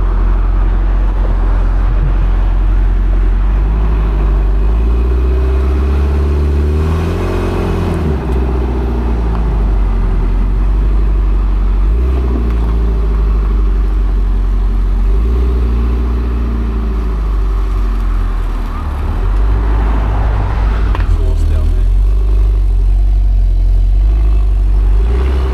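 A freshly imported Japanese car sits at a car yard with its engine running, a loud, close, steady rumble with throaty low harmonics and a few revving swells, no voices on top.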